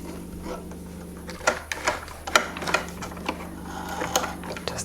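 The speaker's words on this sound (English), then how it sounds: "put the stitch on 3. I'm just going to back stitch" A sewing machine back stitching at stitch length 3 with raised tension while shirring fabric with elastic thread, giving a soft, uneven run of mechanical ticks and clicks over a steady low hum, close and fairly quiet.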